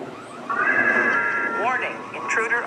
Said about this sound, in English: the alarm's going off on the camera